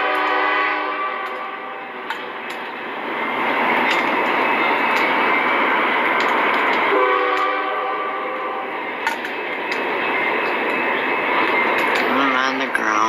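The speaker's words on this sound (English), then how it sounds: "Train's running." A train runs past with its horn blaring in long, loud, sustained blasts that are broken by short gaps, over a continuous rumble of the passing rail cars.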